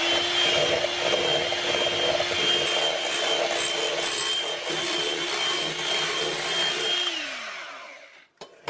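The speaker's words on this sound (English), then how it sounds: "So I've got my electric whisk here. I'm going to now whisk the egg whites till they're lovely and whipped." An electric hand whisk whipping egg whites for a no-churn vanilla ice cream, a loud continuous motor whine with beaters rattling in the bowl, running steadily for several seconds before winding down and stopping with a couple of clicks.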